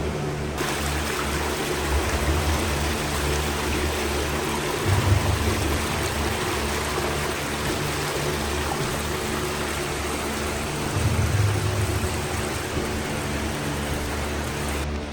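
Water flowing through the underground collector of the Klov river beneath Khreshchatyk, a steady rushing stream echoing in the tunnel, continuous and fairly loud with a few louder surges, no talk.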